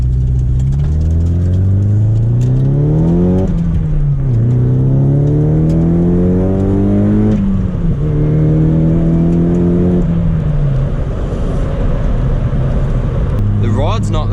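Nissan Silvia S15 Spec R with stock boost control, engine note rising and falling through several gear pulls while driving, steady and close inside the cabin, with someone talking over it.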